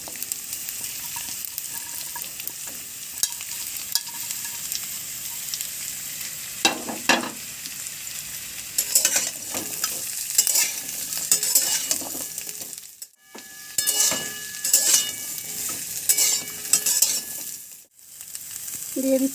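Drumsticks, papaya and potato fry in a pan with a steady sizzle, stirred in bursts of scraping and clatter. It pauses briefly twice before frying resumes.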